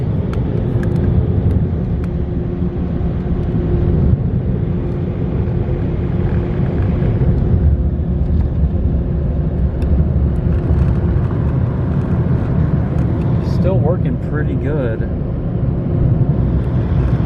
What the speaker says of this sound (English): Not a lot of car wash dryers I run into